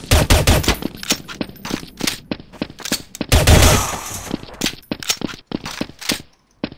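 Suppressed gunfire in Counter-Strike: Source sounds as a fast series of sharp, muffled pops in close bursts, with brief gaps and one heavier volley midway.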